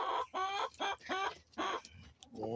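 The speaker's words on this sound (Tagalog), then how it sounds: "Ito po yung tandang ko." A backyard rooster gives a run of loud, close clucks and short squawks in uneven bursts, with a brief higher call near the end and no talking over it.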